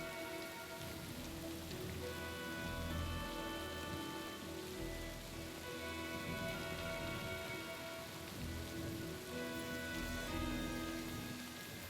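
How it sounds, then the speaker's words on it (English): Steady rain falling in the medieval role-playing video game Kingdom Come: Deliverance 2, a dense, even patter of drops on surfaces that continues without a break for twelve seconds, with no talking over it. "Listen to the rain."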